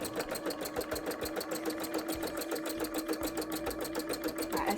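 A sewing machine runs steadily through a zigzag stitch on cosplay fabric, its fast, even mechanical clatter carrying close and unbroken, with no voices.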